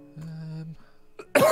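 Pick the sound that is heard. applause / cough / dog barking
cough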